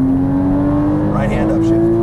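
A Porsche Cayman S engine runs at full throttle in third gear, a loud, close, sustained drone with a steady pitch that lifts slightly partway through; a voice briefly sounds over it.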